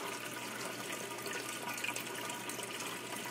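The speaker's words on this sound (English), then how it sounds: "My overflow is making a lot of noise right now" Water rushes and gurgles steadily through an aquarium overflow box and down a tube, a constant trickling flow with no voices.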